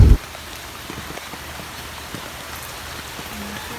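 Floodwater after Typhoon Ulysses rushing past in a strong current, a dense, steady roar of water like heavy rain, loud and unbroken after a brief thump at the start.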